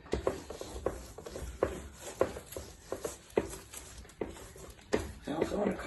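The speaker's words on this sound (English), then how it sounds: "I want to come back with my dry roller, give some even pressure over this" A dry roller is pressed and rolled over a decorative mica rock sheet, making soft, uneven scraping and crackling rubs with small clicks. The sound is close and quiet, repeating in short strokes.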